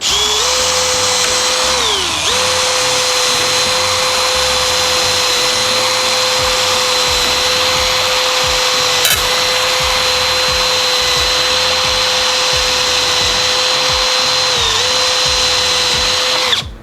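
A Milwaukee M18 CBLPD-422C cordless impact drill running with a 2 mm bit, a loud, steady high-pitched whine held for about sixteen seconds, dipping briefly twice as the load changes.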